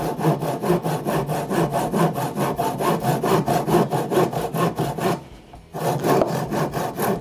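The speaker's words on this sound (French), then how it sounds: "je vais coincer le bois avec un serre-joint ici. Et voilà, je suis là pour scier" A hand saw cuts back and forth through driftwood clamped in place, each steady stroke rasping close and loud, with a brief pause before sawing resumes.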